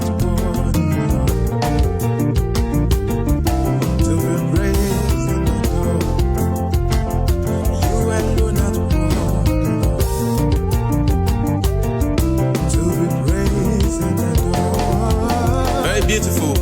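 An Ariaria praise groove plays on a grand piano voice with a live band, a dense, loud, continuous beat driving steadily throughout without any talking.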